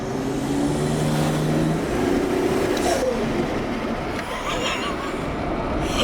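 A Toyota JZX100 with a turbo 1JZ engine and HKS intake drones steadily and loudly, its engine tone holding through the whole stretch with some shifting pitch early on.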